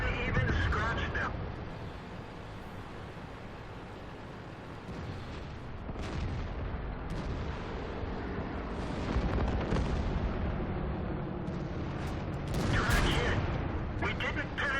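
Tank cannon fire in World of Tanks, several heavy booms rising out of a rumbling engine and battle din, with a voice speaking over much of it.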